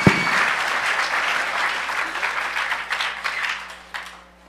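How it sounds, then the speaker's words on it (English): Audience applause for speaker Mitch Altman at a hacker conference talk on microcontrollers, a dense, steady wash of many hands clapping that holds loud throughout and tapers off at the end, with no voices over it. "Give him a huge round of applause right now and when his talk is over."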